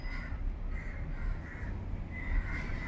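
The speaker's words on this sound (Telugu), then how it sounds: "కాకులు గూడు కట్టుకుంటానికి వస్తున్నాయండి" Crows coming to nest in a tall money plant give repeated, fairly close caws in a loose rhythm over a low background rumble.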